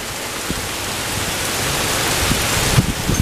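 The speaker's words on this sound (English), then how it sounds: "So much rain!" Heavy rain pours down steadily as a dense, close wash of noise, with a few louder drops or splashes near the end and no voices.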